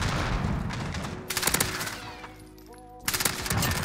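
Rapid shotgun fire in a video game comes as loud close bursts of blasts with a brief quieter gap in the middle and game effects beneath.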